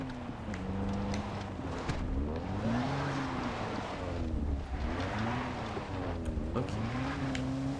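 A car engine in the video game Far Cry 3 drones and revs while driving, its pitch rising and falling through gear changes, steady and prominent, with a brief spoken word over it.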